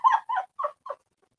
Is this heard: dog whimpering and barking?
yes